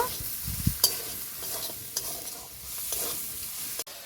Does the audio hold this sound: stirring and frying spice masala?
yes